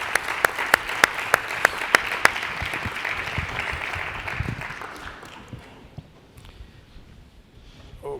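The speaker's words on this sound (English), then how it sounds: "and a big clap for all of them." Audience applause at a conference plenary session, with sharp individual claps standing out at first, then a steady patter of clapping that fades away toward the end.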